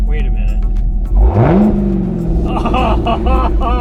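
A Corvette Z06 fitted with a Corsa exhaust revs up sharply from idle, the engine note climbing and holding, then blipping in short repeated revs while people talk excitedly nearby.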